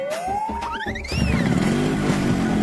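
A new motorbike pulls up and stops in a Hindi cartoon story, with a rising whine that sweeps up through the gears, then a steady, loud idle rumble that continues to the end.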